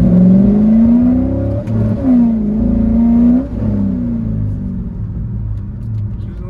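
A cheap used Corvette's engine revs hard through a quick acceleration pull, a loud close rising drone that dips briefly at a shift and climbs again before settling into a steady roar; the car reportedly develops a misfire when warm.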